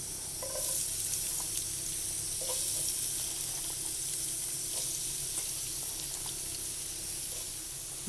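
Four medium onions, finely chopped, frying in oil in a pan for beef biryani, giving a steady broad sizzle with faint clinks and stirring scrapes throughout, no voices.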